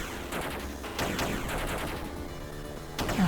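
Rapid gunfire in the PC game Rolling Bird, short crackling bursts of shots repeating in quick clusters, loud and close with no talk.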